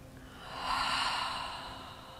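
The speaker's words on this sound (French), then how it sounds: "Une dernière fois, inspirez." One slow, deep breath drawn in through the nose during a hatha yoga session, swelling to a soft peak and fading again, close-miked and unhurried, with no one speaking.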